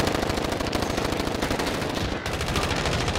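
Rapid automatic gunfire in the Warzone video game, including an M4A1 rifle, rattles continuously at close range in dense overlapping bursts, with no talking over it.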